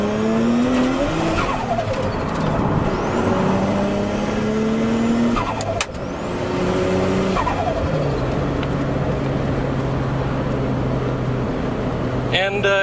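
Nissan Skyline R33 GTS-T with a 2.0 or 2.5 engine revving hard and breaking traction, rising engine tones and tire squeal sustained loud throughout, with speech over it.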